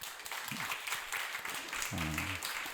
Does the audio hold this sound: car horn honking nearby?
no